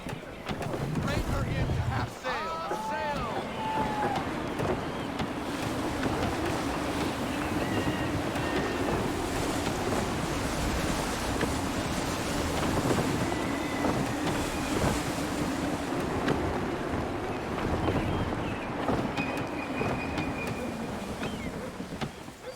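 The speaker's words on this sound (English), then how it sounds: "Gusty winds can be difficult to manage." Steady rushing wind at sea aboard a sailing ship in Assassin's Creed III, a continuous broad roar with water wash, and a voice speaking briefly over it.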